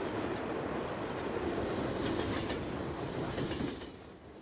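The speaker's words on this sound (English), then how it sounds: "And that's the train. Rolls through here every so often." A train rolls along the tracks on an American-style video game map, a steady rumble with faint clickety-clack of wheels, heard alone and fading toward the end.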